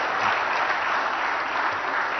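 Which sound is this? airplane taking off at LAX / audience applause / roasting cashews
audience applause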